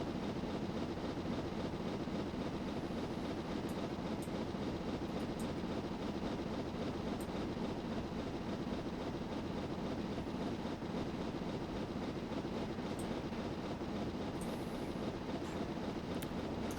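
Train in Train Simulator 20 picking up speed on a downhill section between Exeter and Plymouth, a steady loud rumbling drone of wheels and engine holding unbroken throughout with faint high squeals now and then.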